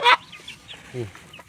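Chickens from a mixed flock of black-meat and crossbred hens cluck in a short burst, loud at first then softer, with scattered calls after.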